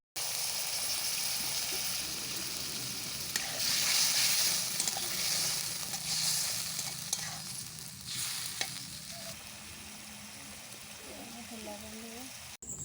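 Pointed gourd simmering in a mustard masala as water goes into the pan, giving a steady close sizzle and bubbling hiss with some stirring throughout, and no voices.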